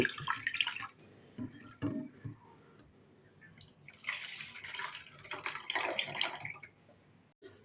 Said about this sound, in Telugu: 1 కప్పు మందం అటుకులు తీసుకొని వీటిని ఒకసారి శుభ్రంగా వాష్ చేసుకోవాలి